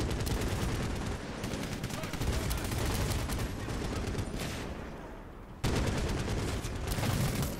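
Sustained gunfire rattles in Medal of Honor Warfighter, dense rapid bursts of automatic shots that stay loud and close, briefly thinning before resuming at full intensity.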